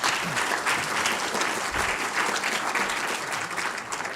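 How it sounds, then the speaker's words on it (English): A warm round of applause from a lecture hall audience for a speaker on genetics and zebrafish research, full and sustained, with many claps merging into a steady roar from start to finish. "So let's give Tom a warm round of applause."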